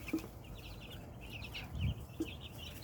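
Chickens of several breeds, including large white Cornish birds, cluck softly in short scattered calls over low background noise.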